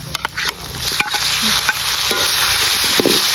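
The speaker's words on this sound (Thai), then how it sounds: "ผัดเผ็ดหมูป่าก็จะใส่นี่หมูป่าหมูป่าลงไปนะคะ" Wild boar meat stir-frying in a hot pan for a spicy Thai stir-fry, giving a loud, steady hiss and sizzle with a few scraping stirs and clatters, no voices.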